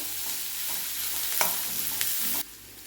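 Onions frying over a high flame in a pan for Schezwan rice, a dense hiss and sizzle with a few sharp spatula scrapes as they are stirred, stopping abruptly near the end.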